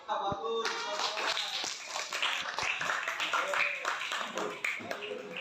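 Schoolchildren in a fifth-grade class clap their hands together, a dense patter of claps running throughout, mixed with children's voices and chatter close by.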